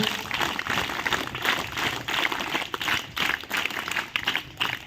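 At a motivational mindset session, an audience claps in a busy, uneven patter that holds steady throughout, moderately quiet and somewhat distant.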